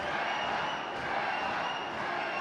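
A fight crowd between rounds fills the space with a constant, distant roar of cheering and scattered clapping, a dense wash that holds steady with no clear pauses.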